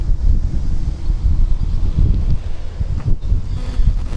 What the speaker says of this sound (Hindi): बहुत तेज़ हवा चल रही है इस वक्त